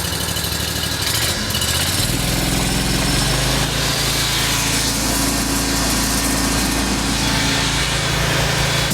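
The engine of an Oscar 52 portable sawmill drones loud and close at steady throttle while the blade chews continuously through a wide log, with a rising rasp of cutting wood layered over the motor's high buzz.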